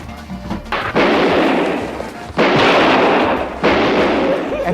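Loud bursts of gunfire in a police training scene, three heavy sustained volleys starting near one, two and a half and three and a half seconds, each booming and ringing on with no gaps between.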